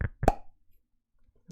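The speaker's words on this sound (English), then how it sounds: "Let's get the cork pop right in the mic here." A whiskey bottle's cork is pulled right next to the microphone, giving a short squeak and then a sharp, hollow pop, followed by quiet.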